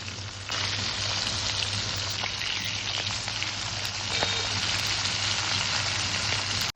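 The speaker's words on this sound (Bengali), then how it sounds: "এবার কড়ার মধ্যে মাছ ভাজার মতন তেল দিয়ে হলুদ মাখানো পমফ্রেট মাছগুলো ভেজে নেব।" Turmeric-coated pomfret fish frying in oil in an iron wok, a steady, close hiss and crackle that starts abruptly and holds evenly, with scattered pops.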